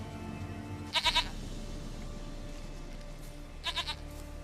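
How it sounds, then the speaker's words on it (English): A goat in The Witcher 3 bleats in two bursts, a quick triple call near the start and another shorter set later, each clear and fairly close over a steady ambient game background. "Goat of mine, dearest,"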